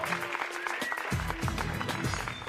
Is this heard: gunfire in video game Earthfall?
no